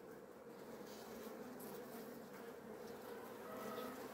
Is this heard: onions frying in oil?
no